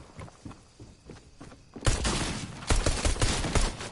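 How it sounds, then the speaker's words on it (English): Grenades explode in the Fortnite video game, a quieter stretch of game noise followed by a sudden loud blast and a dense burst of crackling detonations and impacts. "I'm going to throw 3 grenades here."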